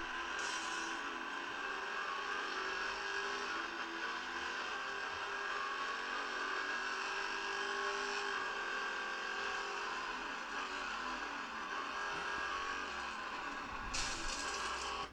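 Engine whine of a race car in a mobile racing game played on a Xiaomi Mi Max 2 phone, a sustained tone shifting in pitch as it revs, with no talk.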